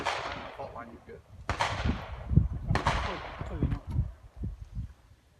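Beretta 92 pistol shots crack during an IDPA shooting stage, several sharp reports spaced a second or so apart with ringing decays, heard at moderate distance with outdoor range ambience and faint voices between shots.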